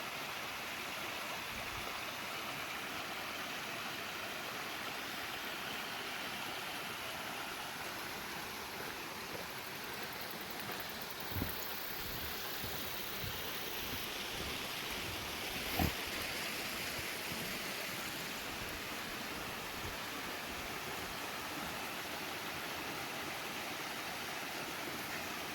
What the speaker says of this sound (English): this right here is a very cool little waterfall